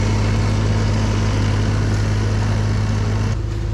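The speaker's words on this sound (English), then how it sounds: "This is fluffy snow, so it's easy for the snowblower, like you can see." A snowblower working through light, fluffy snow drones at a steady pitch up close, its hum dipping slightly near the end.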